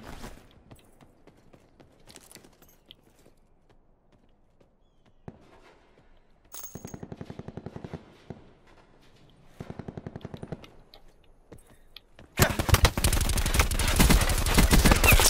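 Rapid automatic gunfire in a battle royale video game, short bursts around the middle growing into a loud, sustained barrage at the end, after quieter scattered shots.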